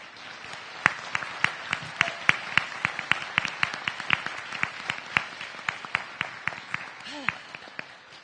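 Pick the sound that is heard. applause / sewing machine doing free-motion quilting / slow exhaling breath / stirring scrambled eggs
applause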